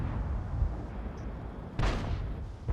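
Tank cannon fire from an ELC AMX bis in World of Tanks: rumbling battle noise broken by a sharp, loud blast near the end and a smaller crack just after, with no talk.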